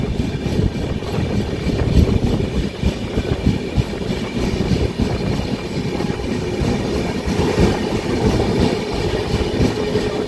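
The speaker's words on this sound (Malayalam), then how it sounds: "അങ്ങനെ നമ്മുടെ ട്രെയിന് തിരൂർ റെയിൽവേ സ്റ്റേഷനിൽ എത്തിയിട്ടുണ്ട്." Passenger train pulling into Tirur railway station in Kerala, a loud continuous rumble of wheels and carriages with rhythmic clatter close by, no talking.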